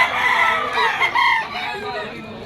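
A cross gray bloodline gamefowl rooster crows nearby at a Malabon pet market, its long, loud call rising and fading over a busy background.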